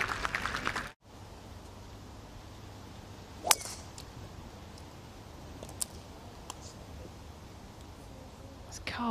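A golf ball is struck off the tee at a professional women's tournament, one sharp crack standing out over a low outdoor hum, followed by a few fainter ticks.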